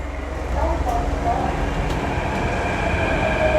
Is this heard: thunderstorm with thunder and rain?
no